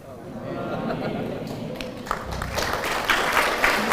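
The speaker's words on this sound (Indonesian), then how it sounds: "Saya tahu mengapa mereka tepuk tangannya belakangan" Lecture audience breaking into applause that builds over the second half, a dense patter of clapping layered under a speaker's voice in a large hall.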